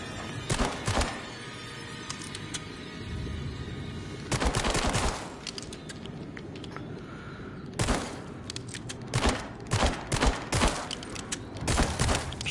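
Rapid bursts of gunfire blast at rats in the VR game The Dark Pictures: Switchback, coming in several loud volleys of quick repeated shots with brief pauses between them.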